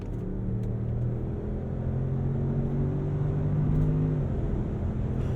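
A 2022 Land Rover Range Rover engine hums and revs under a continuous rumble, pitch rising and dropping briefly as the paddle shifters flick quickly down and up through gears, with no talk over it.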